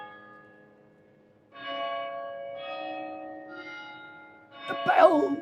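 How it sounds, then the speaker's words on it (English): Church bells in a London market ring a Big Ben–style tune, several sustained, resonant chimes heard at a distance, with a louder clang at the end. "The bells, the bells. Oh, have we got bongs? It's the same tune as Big Ben, by the way."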